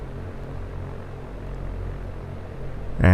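An aircraft takes off from a small airstrip near Quatam River in X-Plane 11. The engine drones as a steady low rumble that builds slightly, and a sharp noise comes in at the very end.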